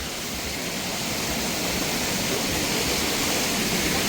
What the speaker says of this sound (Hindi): पानी का बहाव इतना तेज़ था